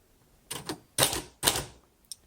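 Typing on a 1961 Royal Futura 800 manual typewriter: a few sharp key strikes in quick pairs, then two loud, longer clattering bursts and a final small tap, close and alone with no talk.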